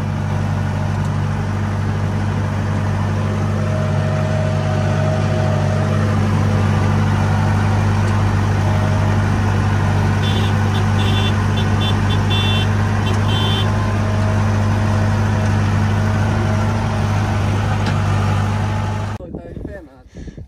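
A farm tractor engine runs in a steady low drone during a ride around a farm, constant and close, with a brief higher chirping pattern midway and the engine cutting out near the end; people talk over it.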